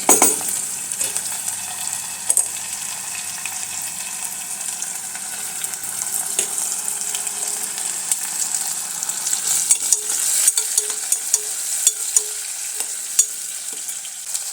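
Vegetables and green chili frying in a pan for veg pulao, a steady close sizzle with occasional stirring scrapes and clinks, running continuously with no voices.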